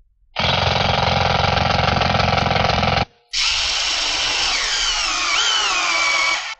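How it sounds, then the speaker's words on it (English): A power drill bores holes in a board for a ham radio kit, with two loud sustained whining bursts of a few seconds each, separated by a brief pause and close to the listener. "I'm going to use a drill on these because I want them to look a little nicer."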